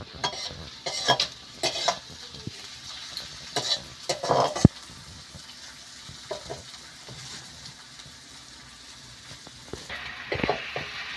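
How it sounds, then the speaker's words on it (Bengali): Onions and chillies fry in a pan for chow mein. A soft sizzle runs throughout, with frequent sharp scrapes and clinks as a utensil stirs against the pan, and there is no talk. "এখন আবার পেঁয়াজ লঙ্কা ভালো করে ফ্রাই করছি এখন আমি"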